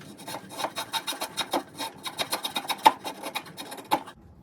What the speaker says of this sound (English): So now when I go back to the draw knife, I have something to cut to.